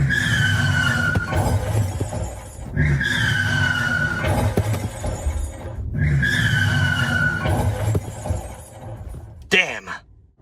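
A car skid-and-crash sound effect plays three times from a smartwatch: each time a loud squealing tire skid slides for a couple of seconds and ends in a shattering crash. A voice speaks between the effects.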